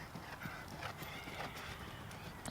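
Show jumping horse Falco van Spyveld moves at a show-jumping event, soft hoof clip-clops sounding faintly and irregularly against murmuring arena background, ending with a louder thump.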